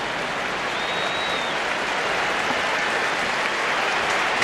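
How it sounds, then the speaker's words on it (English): A stadium crowd of Barcelona fans applauds departing Arsenal players during a preseason friendly, a continuous, even roar of distant clapping with no speech. "Sporting applause from the Barcelona fans for the Arsenal players heading off"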